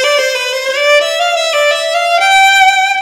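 A viola plays a turn ornament in the Vanhal viola concerto, with a quick decorative flick of notes leading into a sustained bowed tone, close, clear and unaccompanied.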